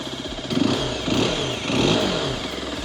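A CFMOTO 125NK 125cc motorcycle engine revs in short bursts, rising and falling over a steady rattling idle, close by with no talking.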